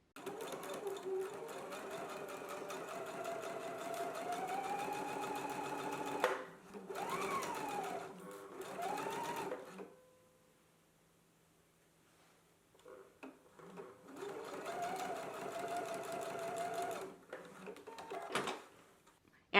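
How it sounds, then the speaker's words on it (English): A sewing machine stitches darts on sleeve linings in fast, whirring runs, close and steady, with a pause partway through, handling clicks in the gap, then another burst of stitching. "So let's go ahead and stitch those in place now."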